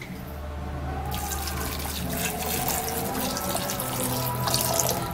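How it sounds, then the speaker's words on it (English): Tap water gushing into a cooking pot in a kitchen, a steady close splashing stream with a few drips and clinks, no speech. "And then you put in water."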